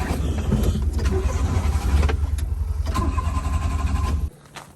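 A Mitsubishi 4x4 mini truck engine cranks and catches, running loudly and steadily up close before cutting off abruptly near the end.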